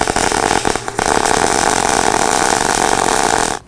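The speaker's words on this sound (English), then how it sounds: "I've been playing around with this Everlast PowerPlasma 62i, and one of the functions it has is a gouge function." An Everlast PowerPlasma 62i plasma cutter gouges metal, giving a loud, harsh, continuous hiss and roar that holds steady for several seconds before cutting off abruptly.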